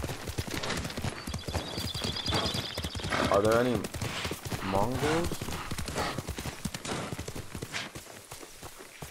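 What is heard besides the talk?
horse riding and breathing heavily in video game Ghost of Tsushima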